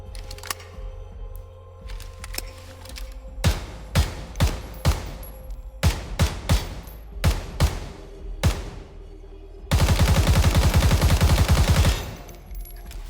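AKM rifle in the video game Ground Branch firing a series of loud single shots in irregular bursts, then a sustained rapid full-auto burst of about two seconds, with no talk over it.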